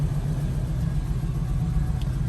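A 1968 Chevrolet Camaro engine idles at operating temperature, producing a low, steady, even rumble heard up close and alone, without talk.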